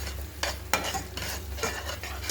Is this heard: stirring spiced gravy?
yes